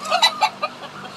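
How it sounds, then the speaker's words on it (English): A bantam chicken gives a short run of quick, close clucks, four or five sharp notes fading into a softer trailing cluck, with a steady low hum behind. "So some of our Bantams are kind of crazy."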